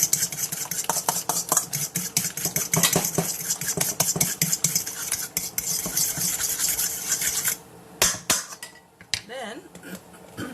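Squash casserole ingredients are mixed in a bowl, making a dense run of rhythmic scraping, clinking strokes that keep going for several seconds, then a pause followed by a few scattered scrapes and taps.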